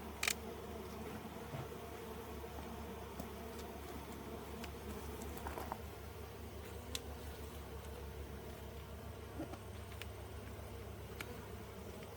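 Honey bees buzz steadily and densely throughout an open beehive inspection. A low, continuous drone fills the whole clip, with occasional faint clicks and knocks. No one speaks.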